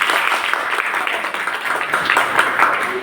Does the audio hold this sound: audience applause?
yes